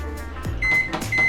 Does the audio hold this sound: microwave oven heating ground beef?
yes